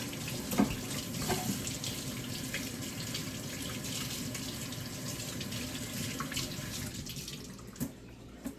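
Kitchen tap water running steadily into a sink while fresh rosemary and oregano are rinsed, a continuous close splashing rush that eases slightly near the end.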